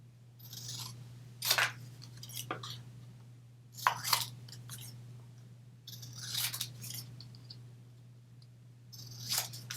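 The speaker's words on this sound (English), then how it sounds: "I'm going to cut these apart because they don't have to be together" Scissors snip apart paper Valentine's Day gift tags in a few sharp, separate cuts spaced several seconds apart. A steady low hum runs underneath and no one speaks.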